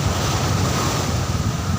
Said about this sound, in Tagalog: Malakas yung alon. Lakas ang alon guys.